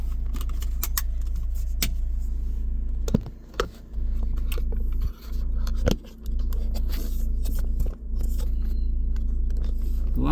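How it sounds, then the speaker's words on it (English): A Volkswagen Transporter 2.0 TDI T30 Highline FWD LWB van drives along a road, heard from inside as a loud, steady engine and road rumble with occasional brief clunks and rattles. "let's go for a drive up the road"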